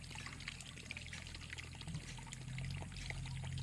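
Irrigation water pours and trickles steadily onto vegetable beds of greens over a low background hum, a continuous gentle splashing flow, fairly faint with no voices.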